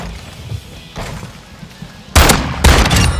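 Two heavy, booming weapon shots ring out about half a second apart in a video game, loud and close over a steady background rumble.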